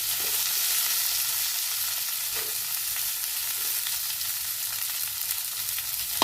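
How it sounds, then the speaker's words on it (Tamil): Brinjal sizzles and fries steadily in a hot pan, with occasional stirring scrapes and faint clicks, close by. "இதையும் போட்டு லேசாக ஒரு வதக்குவோங்க"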